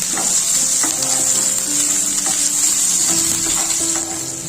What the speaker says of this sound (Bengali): পেঁয়াজটা লাল লাল মতো করে ভেজে নেব